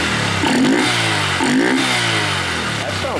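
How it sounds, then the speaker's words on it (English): A Honda Grom motorcycle engine fitted with an MNNTHBX V3 intake, heard close up, revving in two quick rising blips with a steady idle running between and after them. "see if we can get some suction noises from down here."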